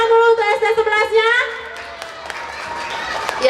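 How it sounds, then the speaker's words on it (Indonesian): Audience at a children's talk show event for SD Negeri 11 Padang Sambian in Bali breaks into clapping, a dense patter of many hands that follows a voice and then carries on steadily, moderately loud, in a hall. "Tepuk tangan dulu untuk SD 11-nya."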